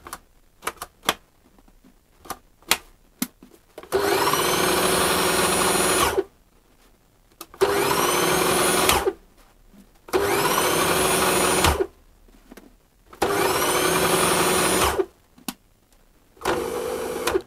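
A Moulinex Masterchef food processor motor with a blown capacitor whirs at high speed in four steady bursts of about two seconds each, separated by short pauses with a few clicks and knocks.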